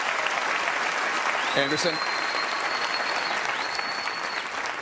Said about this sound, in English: let's have one final round of applause for the candidates